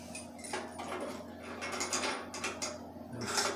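Metal parts of a small propane camp stove, fed by little propane tanks, being tightened down, giving soft ratcheting, clicking and clanking mechanical sounds close by, with no talking.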